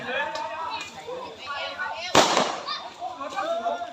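A single sharp firecracker bang bursts out midway inside a banana tree, loud and close, while people keep talking before and after it.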